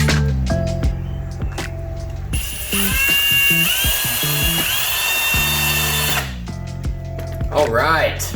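A power tool with 180 grit sands a marred brake line to clean it up for fittings, whirring in bursts with pitch rising and falling, loud and close, with a stretch of steady grinding in the middle and a voice in between.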